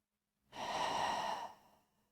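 One slow, deep breath, close and soft, a smooth airy exhale swelling and fading over about a second in a quiet yoga setting.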